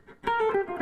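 An electric guitar plays a short, quick descending scale run, shifting from a five-note to a seven-note pattern. A few close, fast-picked notes are heard after a brief quiet start.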